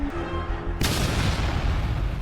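An explosion in a video game bursts in loudly after a short quieter stretch, then a dense rumbling roar with debris-like crackle carries on to the end, no talking.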